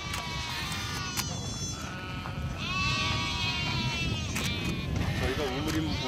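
A goat herd bleats on the Gobi Desert grassland, with many overlapping calls near and far throughout, over a constant low murmur and buzzing insects.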